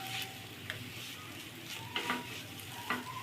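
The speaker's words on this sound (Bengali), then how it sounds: "এরপরে চুলা মিডিয়াম টু লোতে করে দিয়ে নেড়ে চেড়ে নিব" Diced potato and carrot fry over medium-low heat while being stirred in a pan, giving a soft, steady sizzle with occasional scraping knocks of the spatula.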